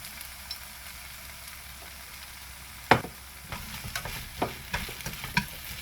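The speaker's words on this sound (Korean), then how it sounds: "지금 불을 끈 상태에서 저희가 이거 볶고 있는 거거든요." Pepper leaves are stir-fried in a pan with the heat switched off, a faint low sizzle under sparse spatula scrapes and taps that grow busier toward the end, close and quiet, with no voices.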